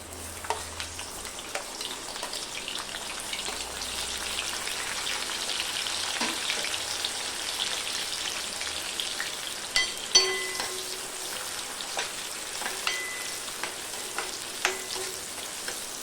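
Chopped onion sizzles steadily in hot oil with bloomed cumin seeds in a pan, a continuous frying hiss with occasional stirring clinks and scrapes, close and moderately loud, no voices.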